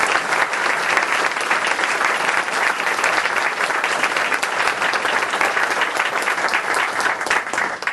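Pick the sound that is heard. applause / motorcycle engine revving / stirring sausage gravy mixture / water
applause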